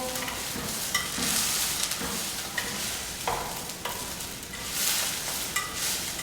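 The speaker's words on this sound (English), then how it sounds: "I'm going to make sure that rice is kind of mixed in evenly with the onions and garlic and coated with oil." Brown rice being stirred in an oiled pan with onions and garlic: a steady close sizzle broken by repeated scraping, spatula-like strokes, with no voices.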